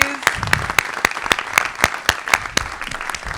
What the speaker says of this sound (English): I would love for them to stand up so that we can all give them a round of applause